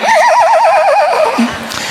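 A voice imitates a horse's whinny, a loud wavering neigh lasting about a second and a half that ends in a low snort, with no other talk.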